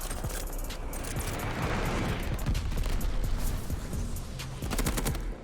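Dense, sustained bursts of NZ-41 rifle fire in the video game Call of Duty: Vanguard, a rapid crackle of shots that stays loud and steady throughout with layered gunfire and no voices.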